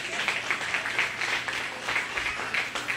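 Applause from a fair crowd at a 4-H/FFA goat show at the Greene County Fair, a steady moderate patter of many hands with faint voices underneath.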